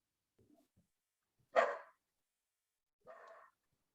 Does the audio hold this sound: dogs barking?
yes